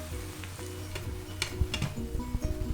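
Shallots fry in a hot pan with oil for Cantonese-style eggplant with minced beef, a steady close crackling sizzle with scattered pops and utensil ticks and no speech.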